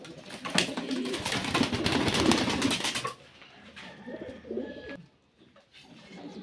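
Pigeons cooing in a loft, a dense chorus of close, rolling coos and wing flutter that thins out halfway through into a few softer, scattered calls.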